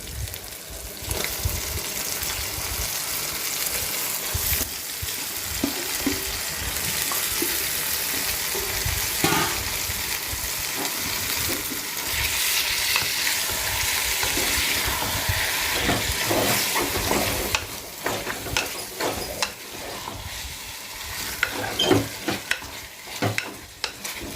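Mutton keema being stirred in a clay kadai, a dense steady sizzle with constant scraping and mixing strokes that grow busier toward the end, close and without voices.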